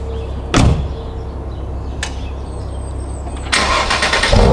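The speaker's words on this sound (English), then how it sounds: "I got up for you guys and just started the engine in different drive modes" A Mercedes engine cold-starts nearby in comfort mode with exhaust valves closed, cranking and firing up, settling into a steady idle rumble, with a couple of sharp clunks, like a door, along the way.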